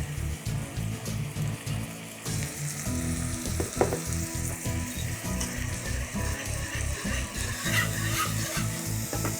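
Bechamel sauce of milk and olive oil cooking over the fire in a pan. A steady, moderately loud sizzle and bubbling carries throughout, with a rhythmic scraping pulse from stirring.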